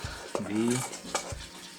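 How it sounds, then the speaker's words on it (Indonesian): Odading dough mixture being stirred in a bowl, a close, soft scraping and swishing with a couple of sharp utensil clicks against the bowl. "aduk merata ya, agar tercampur dengan baik ya semuanya"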